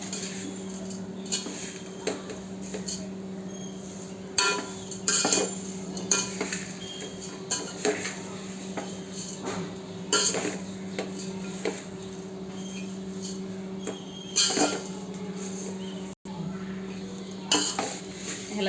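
A spoon or spatula stirs a poha chivda mixture with sugar and salt in a metal pan, scraping and clinking in irregular strokes over a steady low kitchen hum.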